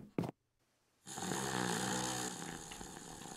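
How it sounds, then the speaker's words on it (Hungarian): Santa Claus snores in a video game: after a short sharp sound and a second of silence, a single long, loud, rasping snore rises and holds steady to the end. "Hát, és még horkol is."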